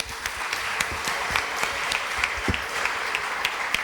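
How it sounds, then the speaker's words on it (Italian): Steady applause from a church congregation fills the space, many hands clapping together with no let-up for about four seconds at a fairly loud, close level. "Facciamo un applauso."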